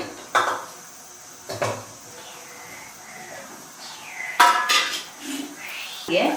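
Several separate metallic clunks and clanks of trotters dropped into a pressure cooker, with quieter scraping between them, close by.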